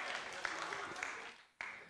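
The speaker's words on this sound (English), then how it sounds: "Give yourselves a round of applause if you did the right one." Church congregation applauding together, a steady dense patter of many hands clapping that breaks off briefly and then resumes, heard at moderate volume in a hall.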